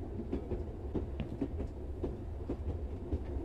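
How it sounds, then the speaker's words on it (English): Train in the video game RE:TURN 2 rolling and slowing to a stop, a muffled rhythmic clickety-clack of wheels over the rails with a low steady rumble, heard from inside the carriage. "Mama! The train! It stopped!"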